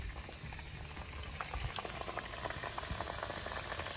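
Okra (lady finger) fries in a pan over an outdoor wood fire, a soft, continuous bubbling sizzle with scattered small pops and crackles, fairly faint and steady throughout.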